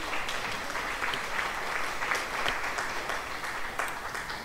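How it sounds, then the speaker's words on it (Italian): Steady applause from a crowd during military training, a dense wash of clapping that holds at an even level throughout with no voices standing out. "Applausi per la nostra Gaia."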